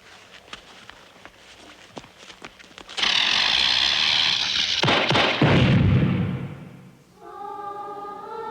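A firework rocket is set off outdoors: faint taps come first, then a loud rushing whoosh and bangs, followed by a brief rising whistle.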